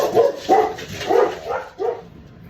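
A pet dog barks indoors at something outside, giving about five sharp, close barks in an uneven rhythm with short gaps between them.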